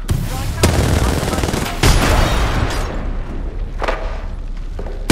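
A frag grenade and bursts of gunfire in a video game, sharp loud bangs at intervals over a dense rumbling barrage.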